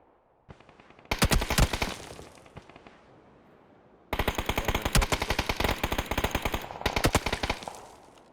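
Video game gunfire cracks in rapid automatic bursts, two long runs of sharp close shots separated by quieter gaps, loud and with no talking.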